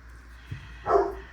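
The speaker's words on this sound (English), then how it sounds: "Because somebody wants to bark." A dog barks once or twice indoors, a short muffled yelp-like burst at moderate distance in an otherwise quiet room.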